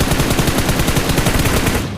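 Rapid automatic gunfire in a video game, a dense, continuous burst of loud shots for about two seconds, close and harsh with no voices over it.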